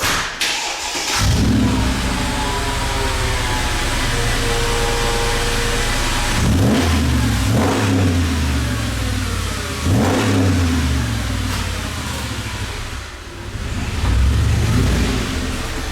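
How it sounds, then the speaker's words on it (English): A Mercedes G55 AMG with 222,000 miles idles loudly, then revs several times in deep, rumbling exhaust bursts that rise and fall, close and powerful, with no voices. "First, you gotta hear this exhaust."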